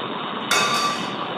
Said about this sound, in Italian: Il boccaporto sembra abbia difficoltà ad aprirsi.